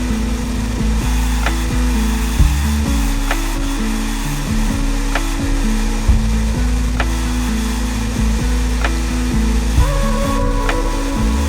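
An old Craftsman shop vac runs steadily inside a Toyota Land Cruiser 100 during interior detailing, a loud, continuous motor drone with occasional bumps and clunks as the nozzle moves.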